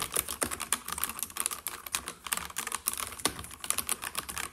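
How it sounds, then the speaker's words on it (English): Rapid, quiet typing on a Corsair K65 Plus Wireless keyboard with low-noise switches, soft muted clicks in an irregular rhythm, close up and alone. "If you're wondering about the low noise of the switches, you can hear them now while typing."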